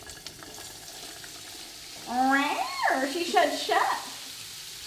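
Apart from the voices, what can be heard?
carrots sizzling in hot olive oil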